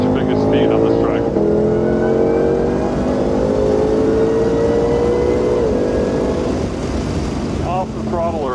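A 2020 Shelby GT500 accelerates hard down the back straight of a race track, its engine droning loudly with steadily rising pitch through the gears, heard from inside the car with brief voices near the end.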